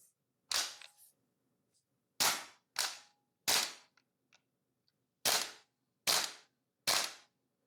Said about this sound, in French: on va voir si je peux tirer encore 10, 20, 30 ou même un deuxième mag complet avec le mag d'origine